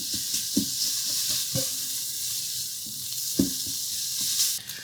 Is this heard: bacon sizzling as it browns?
yes